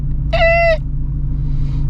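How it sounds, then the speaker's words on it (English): A Shelby GT350's car brakes give a sharp, tonal squeal lasting about half a second, loud and close over a steady low rumble of road and engine noise. "my brakes are crazy loud today"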